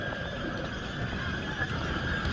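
A horse whinnies amid the dense, steady crowd noise of a tbourida fantasia competition, the Hassan II Prize at Dar Es Salam, with a continuous roar of people and arena sound throughout.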